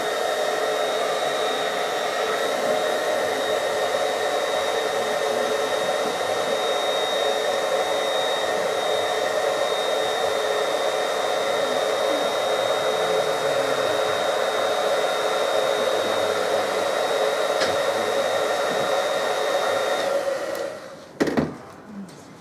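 A hair dryer blows steadily at close range to heat silicone makeup, giving a constant loud whooshing hum with a thin whine for about twenty seconds before it clicks off.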